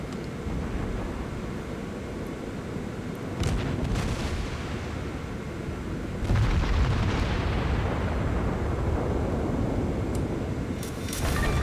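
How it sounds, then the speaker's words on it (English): Naval guns fire a broadside in World of Warships, with heavy booms landing over a constant dense roar of battle rumble, the loudest blasts arriving in the middle of the stretch. "And another good broadside."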